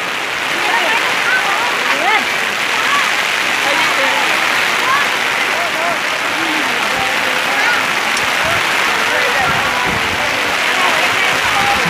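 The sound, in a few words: heavy rain falling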